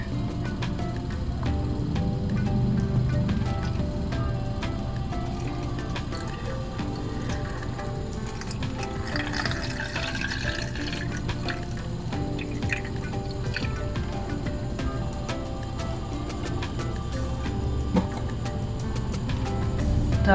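Water poured into an empty hang-on-back aquarium filter, a soft, continuous trickle and dribble under a low background hum, with scattered drips and small splashes and no speech.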